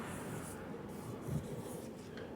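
Marker with xylene-based Marsh ink scratching steadily across a surface, a close, continuous soft rubbing stroke over about two seconds with no talk.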